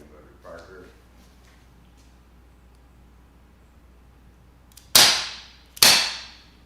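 A CO2-powered air gun fires two sharp cracks about a second apart at a peacock roughly twenty feet away, loud and close, each shot leaving a short decaying tail, after a brief faint murmur.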